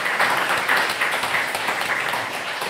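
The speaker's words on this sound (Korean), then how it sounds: "우리 하나님께 감사와 영광의 박수 올려드리겠습니다." Continuous applause from a church congregation at a Sunday worship service in a Madrid Korean Presbyterian church, dense steady clapping from many hands filling the room without letup, with no talk over it.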